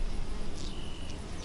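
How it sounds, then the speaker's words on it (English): Worker honey bees buzz steadily around an open hive frame, a faint, continuous insect drone with occasional brief rises as individual bees pass close. "These are worker bees."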